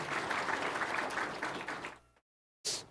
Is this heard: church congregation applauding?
yes